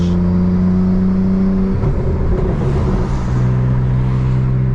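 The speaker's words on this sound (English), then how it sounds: "off the gas, clutch in, change gear, go back on the gas when you come off your clutch" A BMW M3 engine drones loudly, then its pitch drops and shifts as the gear changes with a manual clutch. The engine noise continues steadily and close, with no talking.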